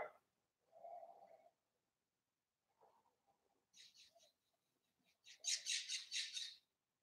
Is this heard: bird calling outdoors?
yes